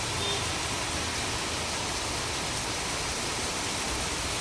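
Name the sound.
heavy rain falling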